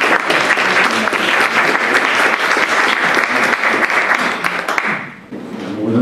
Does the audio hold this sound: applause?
yes